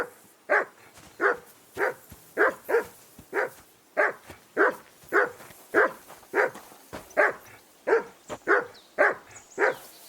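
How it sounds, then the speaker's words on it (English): A dog in the medieval video game Kingdom Come: Deliverance 2 barks steadily and close, roughly seventeen evenly spaced woofs over ten seconds, with no talking. "whistle at that mutt of yours to stop barking"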